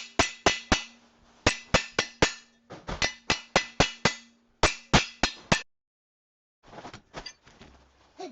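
Repeated sharp metal hammer strikes on a fork while installing dual shock forks on a Jetson Bolt Pro e-bike, landing in quick bursts of three to five blows with short pauses, close and ringing.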